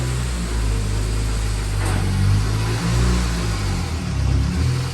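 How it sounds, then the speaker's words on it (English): On a dyno, a white Honda CR-Z with a K&N Typhoon intake, Tegiwa second decat and Spoon N1 exhaust roars loudly and continuously, its revs rising and falling through a power run. "first up today is this Honda CRZ in white for a power run"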